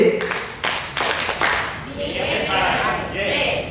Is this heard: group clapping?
yes